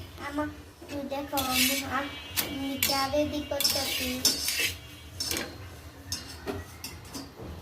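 Metal utensils and dishes clink and clatter in a home kitchen while tea is being made, a string of bright, irregular taps and chimes at close range.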